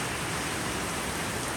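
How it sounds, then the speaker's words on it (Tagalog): Steady rain falls in the Philippines, a dense, even hiss of drops with no pauses, heard alone and close for a brief stretch. "Binablog ko yung ulan"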